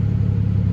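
A 2008 Ford Ranger 4x4 engine idles just after starting, a steady low rumble with an even throb, close and constant for under a second.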